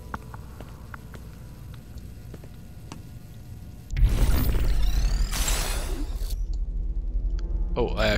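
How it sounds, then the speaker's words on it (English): A door is locked in the stealth game Republique, heard as a sudden loud mechanical clunk and whirr of a locking mechanism that follows quiet ambient clicks, with a voice over it. "Oh, I actually locked the door."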